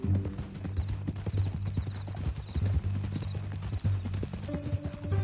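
Horse hooves clip-clop steadily and close in Red Dead Redemption 2, with an occasional faint whinny and low ambient rumble beneath the rhythmic steps.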